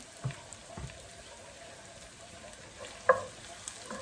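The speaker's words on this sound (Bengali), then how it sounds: "এখানে আমি একটু কই ভাজি করবো ডিম দিয়া, সেজন্য একটু পেঁয়াজ বেরেস্তা করে নিতেছি, আর একটু কাঁচামরিচ দিয়ে দিলাম।" Onions fry with green chillies in a pan, making a soft, steady sizzle with a couple of faint stirring clicks and a brief louder clatter near the end.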